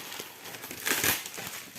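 Bubble wrap packaging wrapped in lots of tape is pulled open close by, giving a short run of crinkling and crackling that peaks briefly in the middle.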